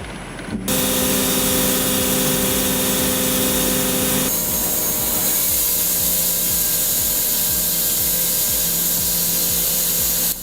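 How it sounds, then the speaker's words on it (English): A Double Arbor MR200 ripsaw, holding up to 12 blades on each shaft, rips wide wooden cants into boards at a lumber yard, a loud steady mechanical roar with a humming motor tone that shifts in pitch partway through. "Check out the power of the Double Arbor MR200 ripsaw."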